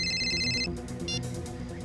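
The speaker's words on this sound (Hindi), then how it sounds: "ये दिनेश क्यों फोन कर रहा है मुझे?" A mobile phone rings with an incoming call beside a parked auto-rickshaw: a bright electronic ringtone plays in short repeating bursts over a steady background hum.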